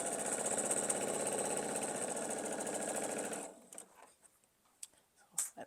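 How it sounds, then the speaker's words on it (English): A sewing machine backstitching a quilt block stitches in a loud, steady, rapid run for about three and a half seconds, then stops abruptly, leaving faint handling clicks and rustles. "So I'm going to do a little bit of backstitching just to make sure that everything stays nice and secure"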